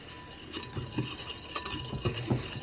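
A whisk beats pumpkin bread batter made with salted butter in a bowl, a steady close scraping and clinking with irregular taps against the side, moderately quiet and without speech.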